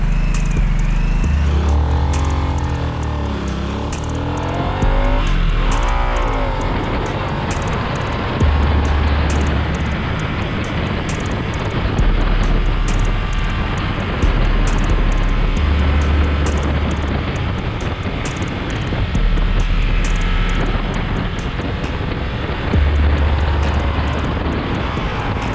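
Harley-Davidson 975 Sportster Nightster motorcycle ridden in sport mode, engine loud and close throughout, its pitch rising and falling in repeated surges of acceleration and gear changes, with wind rush over the top.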